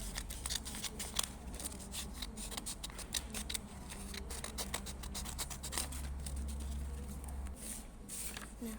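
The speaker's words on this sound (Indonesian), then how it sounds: "menggunting kain" Scissors snipping through three layered sheets of burial shroud cloth, a rapid series of close, crisp cutting strokes with a steady rhythm and brief pauses.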